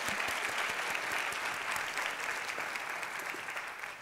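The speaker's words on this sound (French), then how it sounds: "Ce sont tous des grands pianistes, donc vous pouvez les applaudir, eux." An audience at a piano competition award ceremony applauds the jury, continuous dense clapping throughout that eases slightly near the end, with no voices.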